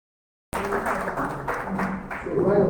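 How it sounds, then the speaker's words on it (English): Audience at a party youth conference in Abuja applauding the national chairman, steady clapping starting abruptly after half a second of silence and continuing throughout. "One more time, a round of applause for the national chairman of our great party."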